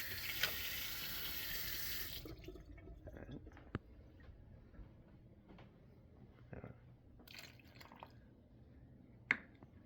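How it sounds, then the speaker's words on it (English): Water added to waffle batter in a small bowl, a steady pour from a tap that stops after a couple of seconds, then faint drips and small wet clicks. "Just want to add more water."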